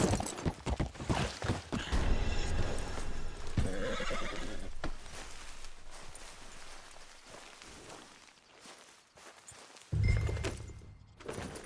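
A horse in the Red Dead Redemption 2 video game whinnies loudly and close, with hooves clip-clopping across the ground in a steady walking rhythm, followed by a second strong burst near the end.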